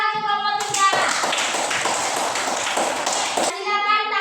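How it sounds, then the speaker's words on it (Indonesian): Classroom applause for a student group after a presentation: a burst of many hands clapping that fills about three seconds, loud and close, between a teacher's spoken remarks. "Oke, tepuk tangan untuk kelompok"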